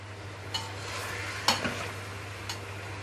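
Onions and meat for Saudi kabsa fry in a pan with a soft continuous sizzle, broken by a few scraping stirs of a spoon against the metal.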